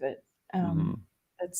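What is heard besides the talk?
None of the usual background noises is heard.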